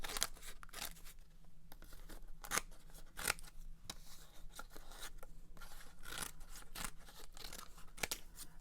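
Scissors cut out a paper pattern with a close series of crisp, uneven snips and paper rustles, quiet and with no voices.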